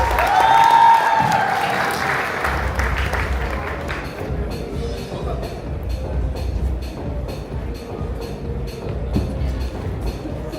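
Applause from a reception audience after a family's speech, a loud burst of crowd noise with a cheer-like tone at first, then settling into a steadier wash of clapping that carries on at moderate level.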